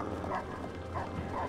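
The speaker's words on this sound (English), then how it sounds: "There's like an infinite amount of dogs here." Several dogs bark and yip in repeated short bursts in the Fragile Dreams video game, moderately close, over a low game ambience.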